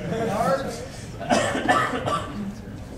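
A few coughs near the microphone, mixed with murmured talking and a light chuckle.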